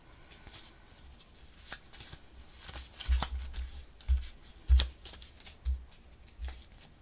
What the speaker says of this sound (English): I'll keep shuffling.